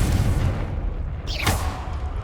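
Confringo blasting curse in Hogwarts Legacy: a single sharp burst with a bright rising whoosh and dull thud, cutting briefly through steady low ambient rumble.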